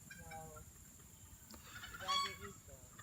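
Faint chicken clucks and a brief squawk sound at a distance over a quiet, low background.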